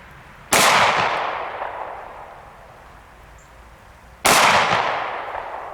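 Two sharp 9mm gunshots strike DIY porcelain armor plates, each a loud crack with a long decaying ring, spaced about four seconds apart with quiet in between.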